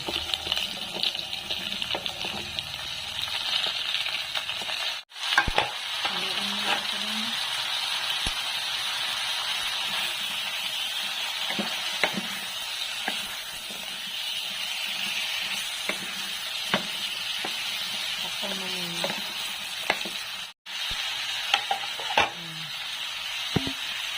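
Bottle gourd frying with pork in a pan: a steady hissing sizzle goes on throughout, with a few soft clinks and stirring scrapes.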